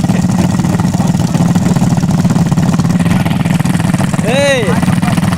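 A motocross motorcycle idles loud and close at a dirt track, its steady low engine rumble continuous throughout, with a brief voice-like cry near the end.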